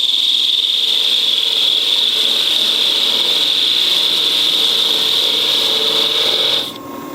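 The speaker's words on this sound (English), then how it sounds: "I'll start with the parting tool." A parting tool cuts into spinning wood on a lathe, giving a loud, continuous rasping hiss that holds steady for several seconds before easing off near the end, with no talking.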